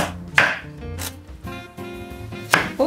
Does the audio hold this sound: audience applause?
no